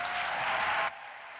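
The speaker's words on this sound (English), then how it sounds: "Give him a round of applause." Audience at an evening movement-building event applauds a panel moderator, a brief loud burst of clapping that drops suddenly to a quieter room tone.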